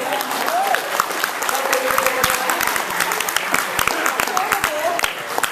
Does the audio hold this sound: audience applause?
yes